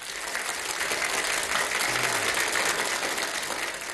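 Audience applause at a 1993 brass-band (dychovka) variety show, a dense, steady roar of many clapping hands filling the hall without a break.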